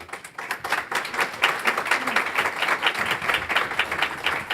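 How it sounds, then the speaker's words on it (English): Audience applause breaks out at an opening welcome session, a steady patter of many hands clapping at moderate level that holds evenly for several seconds. "I did not expect applause, so thank you for that as well"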